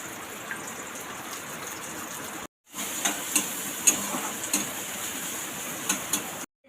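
Onions dropped into hot oil in a pan and frying, a steady close sizzle that cuts out briefly and then returns louder, with small crackling pops and no talking.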